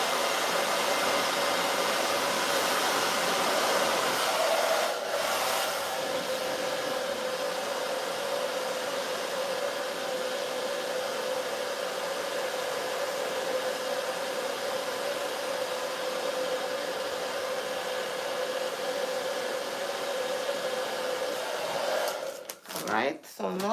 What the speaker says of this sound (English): you're going to go back again with your blow dryer